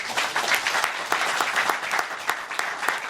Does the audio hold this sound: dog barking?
no